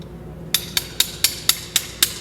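A hammer taps a golf iron head down onto its shaft during reshafting, seven sharp evenly spaced metallic knocks about a quarter second apart, close and distinct over a quiet background.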